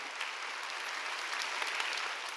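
A congregation at a Sunday church service applauds, a brief burst of steady, moderately distant clapping from many hands in a large room.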